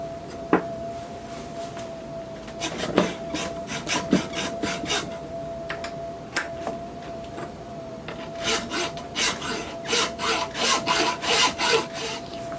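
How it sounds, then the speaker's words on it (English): A hand file rasps across a metal connector pin clamped in a vise during M14/M1A rifle bedding work. Close, scratchy strokes start irregular and settle into a fast, steady back-and-forth rhythm near the end, with no voices. "we're just going to file off the excess and then try to fit it on the side of the receiver"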